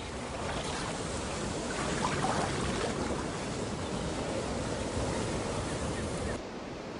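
Steady ocean surf rushes and washes continuously, a broad wash of breaking waves with some wind noise, then the roar drops off abruptly near the end.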